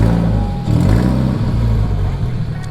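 A modified first-generation Toyota 86 sports car with a Tomei exhaust, its engine giving a loud, close, steady low rumble with a slight swell partway through.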